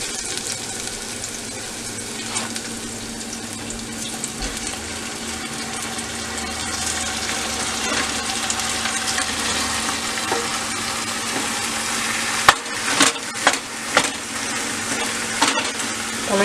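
Tomatoes frying and being stirred into browned onions in a pan for tomato thokku, a steady close sizzle with scraping stirs and a few sharper clacks near the end.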